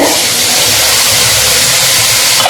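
A pot of beef curry bubbles and hisses steadily at close range, a dense, constant boiling noise with no pauses.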